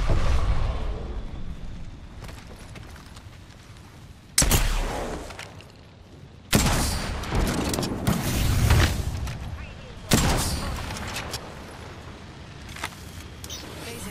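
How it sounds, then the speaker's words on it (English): Grenade blasts and gunfire in a battle royale video game, played solo: several sudden loud booms at about 4, 6.5 and 10 seconds, each followed by rumbling decay over steady background noise. "Throw my grenade out."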